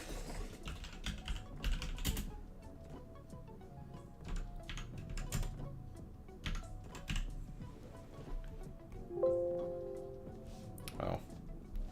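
A computer keyboard rattles through quick bursts of typing as a file name is entered, the close, light key clicks running steadily under a quiet room with occasional talk.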